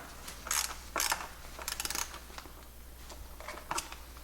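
Ratchet clicks in short bursts as seat mount bolts threaded into aluminum are tightened on a Polaris RZR, several close rapid pawl runs separated by brief pauses over a low hum.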